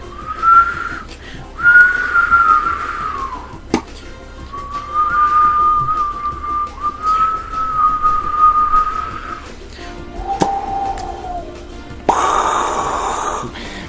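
A person whistles several sustained, wavering tones with short breaks in between, close to the microphone, during a Mario Kart 8 stream, and a sharp burst of noise comes near the end.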